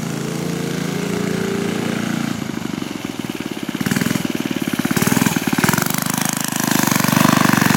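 A small motorized scooter engine revs and chugs loudly up close while riding through grass, a steady rapid pulsing rumble that rises and falls with throttle.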